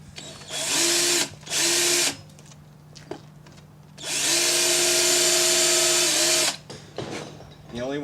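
Drill lightly dimpling a thin brass cutlass bearing for grub screws on a Pearson 323 sailboat shaft, three short loud whining bursts with a longer run in the middle and a faint background hum between.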